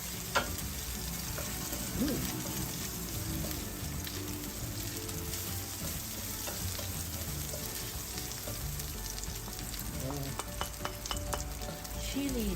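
Garlic sizzling and frying in a pan as the base for a spicy tiger prawn curry, a steady close crackle with occasional stirring scrapes throughout, no talking.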